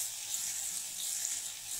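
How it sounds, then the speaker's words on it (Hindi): Green chillies sizzle in a pan with onion and garlic, a steady, soft hiss of frying that holds without a break and with no talk. "मिर्च को भी हम प्याज लहसुन के साथ थोड़ा सा भून लेंगे।"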